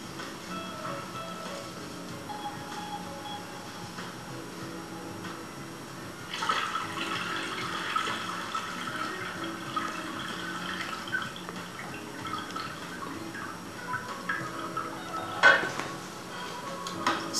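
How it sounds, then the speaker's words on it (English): Water is poured over sushi rice in a bowl for rinsing, a splashing rush followed by softer sloshing and trickling, heard close with no talk. "let's put some more water on top"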